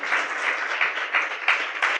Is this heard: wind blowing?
no